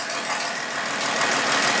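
A 2017 Jeep 3.6 V6 with cam timing faults idles with a dense, diesel-like rattle, a continuous close and loud clatter with no pauses.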